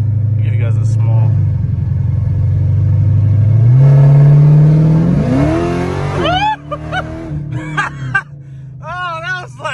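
A powerful V8 car engine rumbles at idle, then revs hard at partial throttle and climbs sharply in pitch before people react with excited voices afterward.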